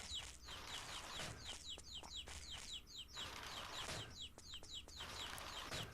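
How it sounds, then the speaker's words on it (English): Chickens cluck and chirp in the video game Chulip, a busy string of short calls over steady background game ambience, with no talking. "Chickens. Come over here."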